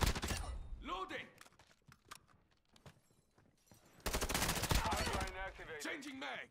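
Bursts of gunfire in a video game, sharp cracks and rapid automatic volleys, loud near the start and again through the last few seconds, with in-game voices calling out between shots.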